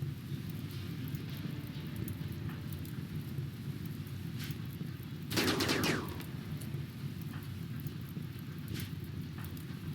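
Mortar fire in the RimWorld video game: a single short burst near the middle, fairly loud over a steady background of rain-like hiss and low rumble.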